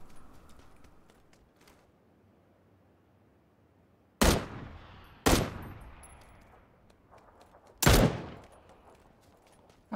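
Gunfire in the video game PUBG, three loud sharp shots spaced a second or more apart, each leaving a fading echoing tail, with quieter faint clicks and scuffs between them.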